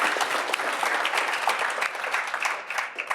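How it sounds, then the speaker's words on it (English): Audience applause at a United Way of the Midlands campaign kickoff event in Omaha, steady dense clapping filling the room from start to end with no talk over it. "So maybe a big round of applause for just Omaha and the Omaha Metro being able to do that."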